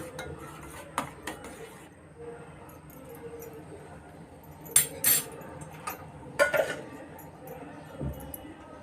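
A spoon clinks and scrapes against a metal pot of boiling herbal tea several times at irregular intervals, over a faint low hum.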